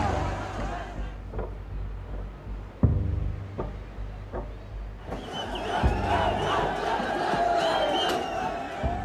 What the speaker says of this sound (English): Crowds breach the Supreme Court